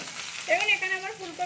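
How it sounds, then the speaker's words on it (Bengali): Cauliflower florets frying in oil in a pan for a vegetarian cauliflower roast, a soft steady sizzle close by with faint tonal voice-like sounds over it. "এখানে এটা আমি ভেজে নিচ্ছি একটু"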